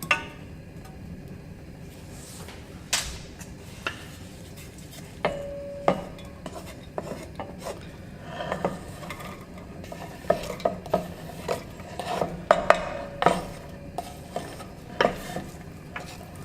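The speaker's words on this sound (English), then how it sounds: "And in that butter, we're going to add our onions and our garlic." Chopped onions and garlic sizzling in four tablespoons of melted butter in a pan, a soft steady frying hiss broken by scattered clinks and scrapes of a spoon stirring against the metal, close but gentle, no talking.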